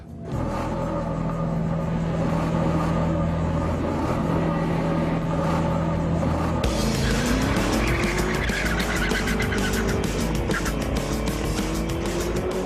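A Vauxhall VXR8 with a 6-litre V8 roars loudly through a drag race, its engine note climbing steadily with tire squeal and a sharp gear change midway, sustained and close.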